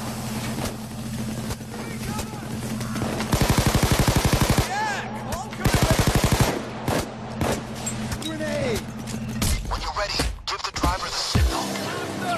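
Gunfire in a video game rattles out as two long bursts of rapid automatic fire, loud and close over a droning engine hum, with scattered shots and shouted voices following.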